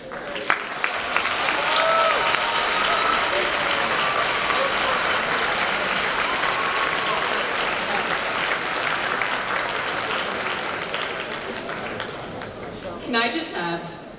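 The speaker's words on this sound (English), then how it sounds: "Can I just have one more applause for Adalia, Delilah, and Mr. Kevin Schwab?" Long, dense audience applause at a Founder's Day event rolls on steadily like rain, with voices in the crowd and a brief louder burst near the end.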